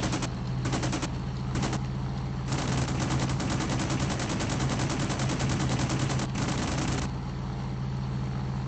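Machine guns fire from a fighter plane in the IL-2 1946 flight sim, MC200 Saetta mission over Sicily: long, loud, rapid rattling bursts over a constant engine drone, the longest lasting about four seconds.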